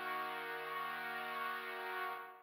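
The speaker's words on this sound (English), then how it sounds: "It's this little drone chord thing that I made with analog." A sustained synth drone chord built from a saw wave with a touch of white noise in Ableton Analog, steady and buzzy with a faint hiss on top, holding evenly before tapering off at the end.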